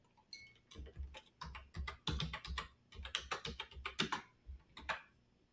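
Someone types an email and password on a computer keyboard, a quiet, close run of quick uneven key clicks with brief pauses, no talking.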